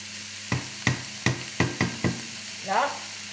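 Bell peppers stirred into sizzling vegetables in a pan, six evenly spaced utensil knocks and scrapes over a low frying hiss, ending in a short swishing stir, with no speech.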